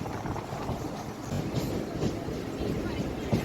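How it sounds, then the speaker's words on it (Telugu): A Chennai suburban train runs between stations toward Nungambakkam with a steady, dense rattling rumble of wheels and carriages, heard from inside along with indistinct voices. "మళ్ళీ ట్రైన్ స్టార్ట్ అయింది."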